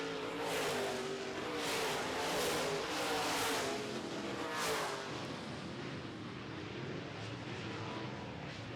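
Modified-class race cars on a dry, slick dirt track roar past in a loud, continuous engine din that swells and fades in repeated waves as the field passes, with no voices over it.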